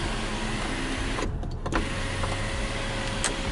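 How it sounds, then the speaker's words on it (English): A Mercedes sunroof motor whirs steadily inside the cabin, a fairly loud electric hum with a few brief clicks partway through, heard alone without talk. "Sunroof. Control it with this button here. This one's kind of loud."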